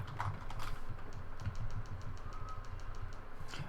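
Keystrokes on a computer keyboard tap out quick, light, irregular clicks at close range, fairly quiet, with no voices.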